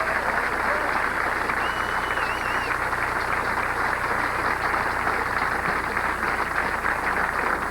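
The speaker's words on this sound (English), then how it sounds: "they're on their feet right now applauding both players." A bowling audience at a 1989 professional tournament stands and applauds both players, a loud continuous roar of clapping that holds evenly throughout.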